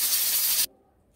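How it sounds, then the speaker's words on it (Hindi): Pressure cooker used to cook mutton trotters releasing a loud burst of hissing steam as it is opened, lasting about half a second before cutting off abruptly into near silence. "अभी प्रेशर कुकर चलते हुए आधा घंटा हो गया है। अभी इसको हम खोल के चेक करते हैं।"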